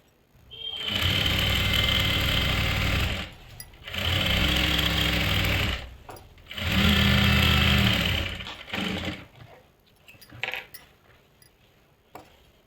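Sewing machine stitching a salwar, three sustained whirring bursts of a couple of seconds each separated by short pauses, followed by light clinks and handling noises.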